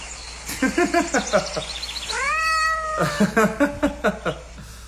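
Cat meowing repeatedly up close, a series of short mews with one longer drawn-out cry in the middle, over a low steady background hum.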